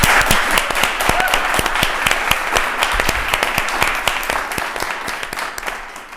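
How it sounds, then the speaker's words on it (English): Audience applause at a Lincoln mayoral debate: dense, steady clapping from a modest crowd, close and fairly loud, thinning slightly toward the end. "Let's give them a round of applause"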